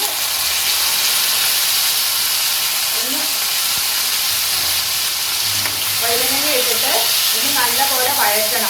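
Brinjal pieces fry in oil in a pan with curry leaves and green chillies, giving a loud, continuous close sizzle and hiss, with bursts of spitting crackle toward the end as the mixture is stirred.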